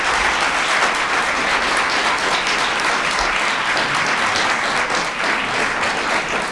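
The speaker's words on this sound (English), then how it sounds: "please join me in a round of applause thanking all of these amazing people" An audience applauds performers at a talk on Jewish music and ecstasy, with dense, steady clapping that holds loud and even throughout without a break.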